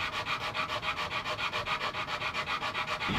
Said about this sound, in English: now I'm going to switch to a flat sanding block and finish sanding the sides flush